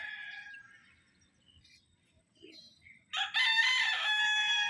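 A Mount Banahaw Bloodline Tornado Hatch gamefowl rooster crows once, loud and close near the end, after fainter bird calls in a quiet yard.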